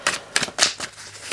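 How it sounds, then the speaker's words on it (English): Tarot cards shuffled by hand in a chilly room, giving several quick papery riffling bursts in an irregular rhythm, close and fairly soft, with no talking. "not very good at shuffling again today"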